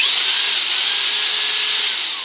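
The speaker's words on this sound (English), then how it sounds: "That's just the drill." Rotohammer whirring in drill-only rotation mode, a loud, steady high-pitched motor whine held close by for a couple of seconds before easing slightly.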